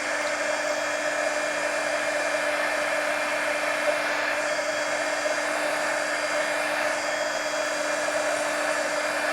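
A heat tool dries a mixed media collage art card, blowing as a steady whirring hum that stays even and loud close by for the whole stretch.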